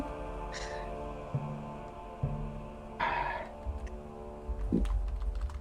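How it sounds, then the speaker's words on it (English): Someone types on a computer keyboard during a tabletop role-playing session. Soft clicks run close and steady, with a few louder key strikes scattered through a low background hum and no talk. "he's typing it out"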